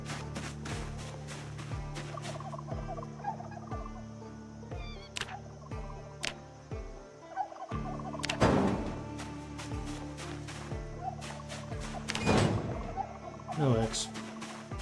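A turkey hen gobbles in the survival game Project Zomboid, with several short, bursty gobbling calls standing out against steady game ambience and soft footsteps.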